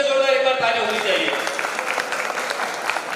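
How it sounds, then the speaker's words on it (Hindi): Audience at a radio listeners' convention in Buldhana clapping, a dense rush of many hands that starts under a voice and carries on steadily to the end. "इनके लिए जोरदार एक बार ताली होनी चाहिए"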